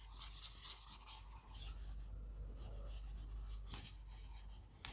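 A teacher erasing writing from a classroom board, producing a soft, quiet, continuous rubbing and scrubbing with brief louder strokes.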